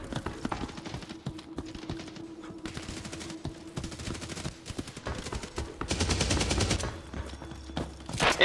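Rapid bursts of automatic gunfire from the PC shooter Hired Ops, volleys crackling in fast rhythm over several seconds with a heavier, louder stretch near the end, mixed with game effects.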